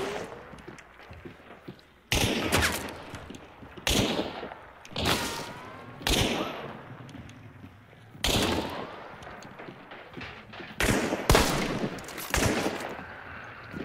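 Gunfire in the video game Hunt: Showdown, a series of loud, close single shots, roughly six of them at irregular intervals, each ringing out with a long decaying echo.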